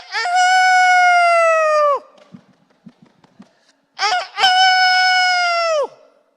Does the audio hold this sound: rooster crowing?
yes